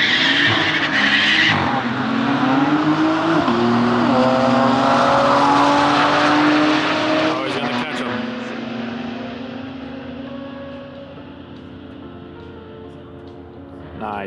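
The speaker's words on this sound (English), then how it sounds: "That was like a fourth gear burnout. You had smoke and everything." A rally car does a fourth-gear burnout, its tires letting out a loud, sustained squeal with a harsh engine roar that slides in pitch, then slowly fades over several seconds.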